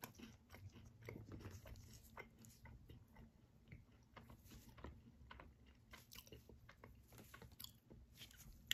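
Close, quiet bites and chewing on a Tim Hortons salted caramel granola bar, with soft crunchy crackles repeating irregularly and no talking over them.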